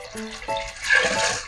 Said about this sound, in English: We've added the water.